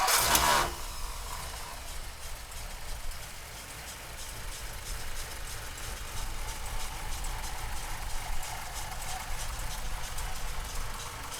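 A 1955 Ford Fairlane convertible's engine idles steadily after a sharp burst at startup, a low continuous rumble with broadband noise holding at a fairly even level throughout, with no talking.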